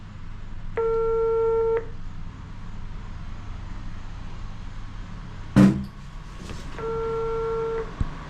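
An intercom in a newly installed home security system rings back with two steady electronic tones about a second long, spaced several seconds apart, while a sharp click sounds in the quiet gap between them.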